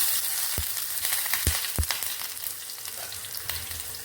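Onions fry in hot oil for a lentil rasam, giving a steady loud sizzle with a few sharp knocks of a spoon on the pan early on.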